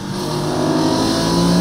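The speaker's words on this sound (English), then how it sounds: "if you open the exhaust flaps all the way" A Porsche 964 REEN RSGT with a GT3 engine and its exhaust flaps fully open, a loud close raspy engine note climbing steadily in pitch as it accelerates, with no talk.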